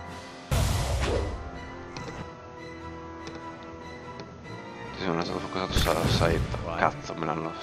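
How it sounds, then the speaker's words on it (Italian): Ship cannon broadsides boom in the video game Pillars of Eternity as a heavy blast opens the clip and a second burst follows near the end, with someone talking over the game sounds. "scarichiamo le bordate sui fuochi fatui"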